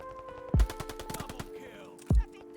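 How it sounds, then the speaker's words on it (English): Gunfire rings out while shooting bots in Call of Duty Vanguard: two heavy, punchy shots about a second and a half apart, with rapid clicking and tapping of rounds between them, loud and close. "as I'm shooting these, as I'm shooting the bots"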